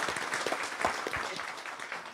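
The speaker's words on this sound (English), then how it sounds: "Round of applause for that." Audience applause at an EverQuest fan gathering, a short burst of many hands clapping in a dense patter, moderately loud and close, fading slightly toward the end.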